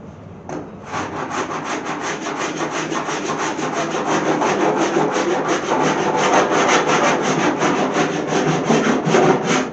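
An abrasive hardware-store tool grinding bondo off the trunk of a 1929 Chrysler, a loud, close, rapid rhythmic scraping that runs continuously for about nine seconds.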